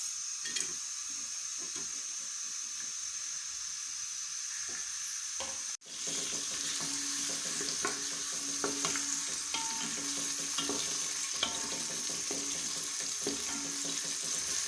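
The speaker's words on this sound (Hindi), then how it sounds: "प्रेशर कुकर में ऑयल डालना है, फिर उसके बाद हम डालेंगे इस पर प्याज" Onions sizzling in oil inside a pressure cooker for lauki chana dal, a steady close frying hiss that starts softer and jumps louder after a brief stir, with faint clinks of a spoon over the continuous sizzle.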